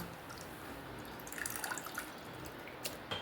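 Water trickles and drips quietly as freshly caught village pond fish are washed for a curry, with scattered light splashes and droplets over a low, steady background.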